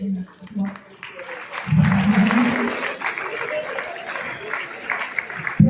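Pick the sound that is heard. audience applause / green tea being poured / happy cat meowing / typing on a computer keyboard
audience applause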